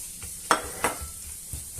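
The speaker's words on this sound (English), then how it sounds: "And I'll add the garlic and the onion." Garlic and onion frying in hot oil on a stove turned down to medium, a soft continuous sizzle with two sharp spoon scrapes and a later stirring knock, close and fairly quiet.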